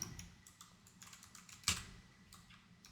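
Someone types on a computer keyboard while entering a formula into a spreadsheet, producing a quiet, close run of light key clicks with one sharper tap near the end.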